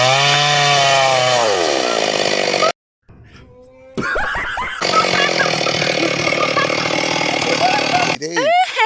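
Firewood being cut with a steady loud whining motor drone that shifts in pitch as the cut bites, cuts off briefly, then returns, with someone talking over it in Assamese.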